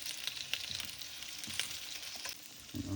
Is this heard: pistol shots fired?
no